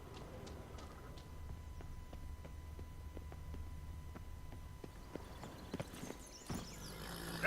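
Roach, Geralt's horse in The Witcher 3: Wild Hunt, walks with steady, evenly spaced hoof clops over a low ambient bed, ending in a brief louder rustle near the close.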